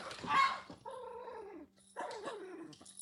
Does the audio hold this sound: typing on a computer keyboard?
no